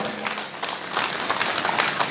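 A crowd applauds to welcome a guest onto the stage at the Rawalpindi-Islamabad Champion Trophy 2022 prize-giving ceremony. The clapping is dense, loud and steady for the whole stretch.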